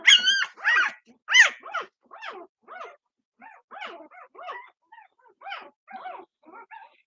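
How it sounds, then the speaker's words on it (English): A young female puppy whimpers and gives high yipping barks in a close, uneven series of whines that start loud and grow softer, with no talk over them. "Guess whose puppy this is?"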